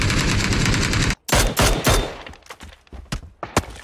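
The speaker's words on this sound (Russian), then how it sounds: "Стреляй да в него." Gunfire in the video game PUBG: a sustained rapid automatic burst, then a brief gap followed by several loud single shots and scattered cracks, close and dominant with no talk over it.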